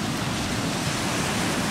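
Water streams out of a freshly opened inlet channel into the Southern Ocean, a dense, continuous rushing roar, loud and steady throughout with no voices.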